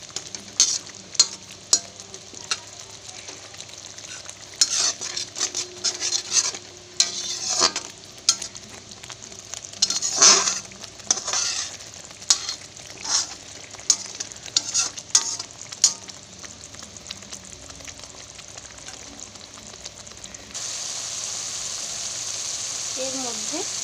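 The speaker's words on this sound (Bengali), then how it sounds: "চিনিটা দেওয়ার পরে সুন্দর করে আমাকে এটা নাড়তে হবে, মশলাটাকে কষাতে হবে" Masala with sugar is stirred and fried in a pan for egg biryani, a steady sizzle under repeated scraping strokes of the spoon, with a brighter, louder frying hiss near the end.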